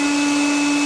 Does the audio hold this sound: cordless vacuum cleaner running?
yes